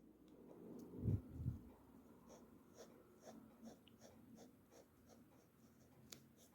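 A pencil shades an eye drawing in close, quiet scratchy strokes that repeat in a steady back-and-forth rhythm, with a couple of soft breaths near the start.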